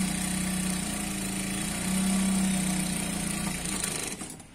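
An electric sewing machine stitching a salwar pant, running in a steady, fast mechanical whir with a brief change in pitch midway, close and fairly loud before it slows and stops at the end.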